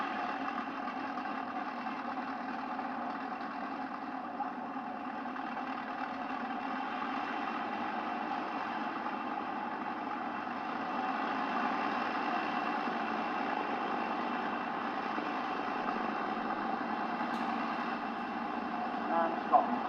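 Engine number 3 of an aircraft idles in a steady, droning hum that holds even throughout, loud and unbroken, with a faint click near the end.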